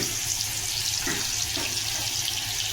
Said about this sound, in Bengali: দেখো জাস্ট আমি একটু রসুন ফোড়ন দেবো